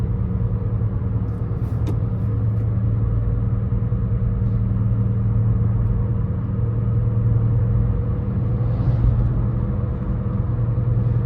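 Steady interior engine drone and road rumble from a 2017 Toyota Corolla SE with over 100,000 miles, cruising with sport mode off; a continuous, even low hum with no talking.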